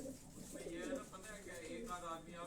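Pigeons coo softly nearby, with low, rolling calls repeating over quiet background noise and faint, indistinct voices.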